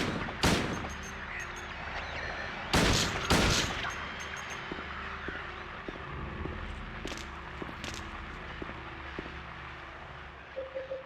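Pistol shots ring out in Silent Hill 2, a few sharp loud cracks spaced apart, including a close pair near the middle, over a dark ambient hum with faint footsteps and small clicks.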